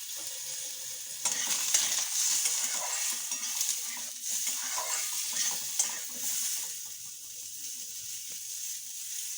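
Diced onion dropped into hot oil with a bay leaf and cumin seeds gives a soft sizzle that rises, stays steady with faint crackles and stirring noises, then eases a little toward the end.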